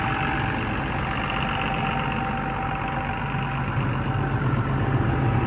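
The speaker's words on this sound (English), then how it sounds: "That Cummins engine just purring." A Cummins diesel engine idles on heavy equipment at a dirt-moving site, a loud, steady, even rumble that runs throughout without change and with no talk over it.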